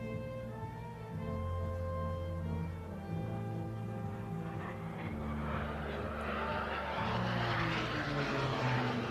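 Pratt & Whitney PT6A-62 turboprop aircraft, rated at 950 shaft horsepower, flying aerobatic manoeuvres at an airshow practice in Leszno: a loud, steady engine drone whose pitch swells and shifts as the plane passes, alone without talk.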